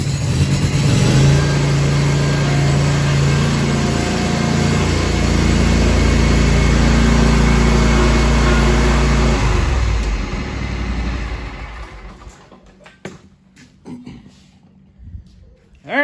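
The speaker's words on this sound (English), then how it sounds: "Now the bad boy lawnmower, that's a different story, so let's get it out now." A Bad Boy riding lawnmower engine runs loud and steady for about ten seconds, then cuts off and winds down into quiet with a few faint clunks.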